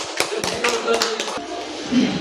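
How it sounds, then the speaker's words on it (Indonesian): A handful of sharp, separate claps ring out in a room during a training session, an uneven burst that dies off after about a second, followed by quieter voices. "Terima kasih, tepuk tangan."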